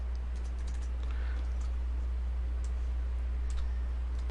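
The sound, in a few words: typing a username on a computer keyboard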